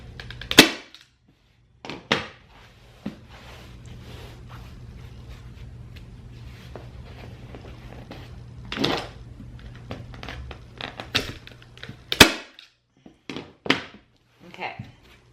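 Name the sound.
staple gun stapling fabric onto a kitchen chair seat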